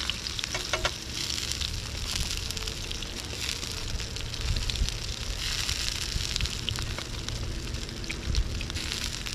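Sea bass fries in a pan over medium heat outdoors, giving a dense, steady sizzle with scattered crackles and pops throughout, with no talking.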